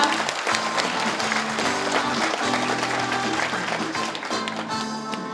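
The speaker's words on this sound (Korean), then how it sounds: "힘찬 박수 부탁드립니다." Audience applause at a Gyeongbuk agricultural research results sharing event as the provincial governor arrives, dense sustained clapping from a large crowd with music playing underneath.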